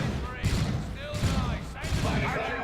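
Dense bursts of gunfire and explosions from a Dawn of War 2 video game battle, including Las Cannon shots, crackle at close range under a commentator's voice.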